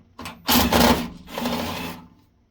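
Cordless power drill whirring in two short bursts, the second trailing off as it backs screws out of an APC Dell SmartUPS DLA3000RM2U 3000VA battery backup during a teardown, close and loud with no talk.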